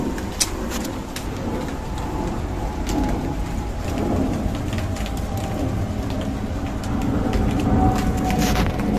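Steady heavy rain pours down with a dense hiss, while low rumbles of thunder roll underneath throughout.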